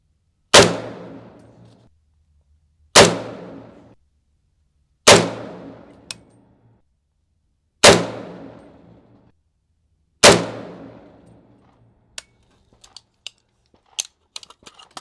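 A 300 Blackout PSA Krink rifle fires five single loud shots spaced a couple of seconds apart, each with a sharp crack and ringing decay outdoors, followed by faint clinks and small rattles.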